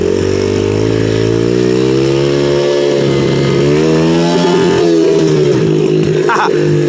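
A dirt bike engine runs steadily and loudly throughout, its harmonic drone shifting pitch as the rider changes throttle while low on fuel, with a brief rise in revs near the end.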